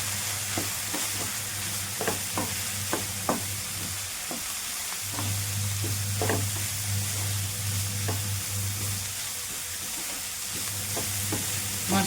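Garam masala, coriander powder and ginger-garlic paste fry with onion in a pan for samosa filling: a steady sizzle with frequent rhythmic scrapes of a spoon stirring, close-up over a low background hum, no talk.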